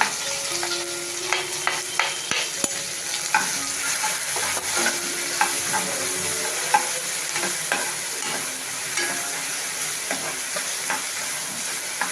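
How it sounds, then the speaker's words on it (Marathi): Curry leaves, onion and tomato fry in hot oil, giving a steady close sizzle, with the repeated scrape and clink of a spoon stirring the pan throughout. "आता हे तेल तापले, आपण कढीपत्ता घालूया."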